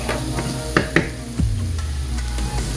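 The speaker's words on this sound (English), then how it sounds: "And let that just continue to fry up there." Ground walnut vegan meat fries in a pan on low heat, giving a steady close sizzle with a few knocks and scrapes from stirring, and no talk.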